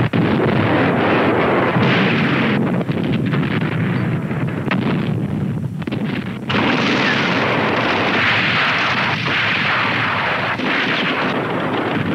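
Sustained artillery barrage at the Battle of Kursk, a dense continuous roar of blasts and rumbling gunfire with wind buffeting, loud throughout with no voices.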